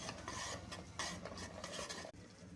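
A spoon stirs spinach puree with roasted cashews for pressure-cooker palak pulao, giving a continuous soft scraping and swishing that stays quiet and close, with no one talking.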